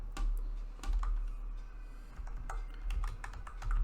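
Login details being typed on a computer keyboard while configuring Citrix StoreFront, an irregular run of close, quiet key clicks with a few heavier strokes, no talking.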